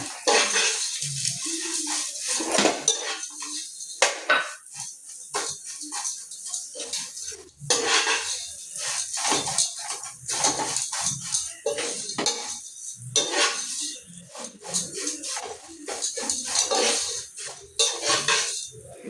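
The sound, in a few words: roasting vermicelli in a pan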